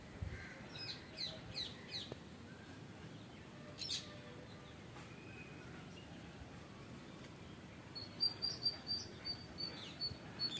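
Crows calling near their nest outdoors on a calm day, a few scattered caws early on, then a burst of repeated calls near the end, fairly distant over quiet background hiss.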